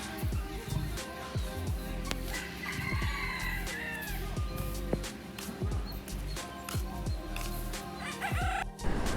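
Chickens and roosters at a park aviary in Yercaud give repeated loud cock-a-doodle-doo crows over frequent clucking, several birds close by and calling throughout.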